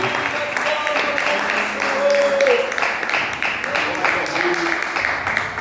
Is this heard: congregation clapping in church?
yes